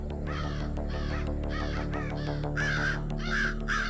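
A crow caws in a forest, a run of harsh repeated calls at a steady rhythm, loud and close over a constant low hum, with no voices.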